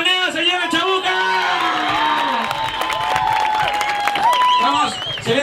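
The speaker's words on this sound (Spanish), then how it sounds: "¡Un aplausito, señor Panderita, señora Chabuca!" Guests at a birthday party applaud and cheer, a steady wash of clapping mixed with whoops and shouted voices, loud and close throughout.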